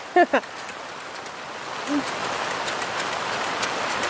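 Steady rain falls outdoors while someone bakes, a constant soft hiss of drops spread evenly throughout, with a brief voice near the start.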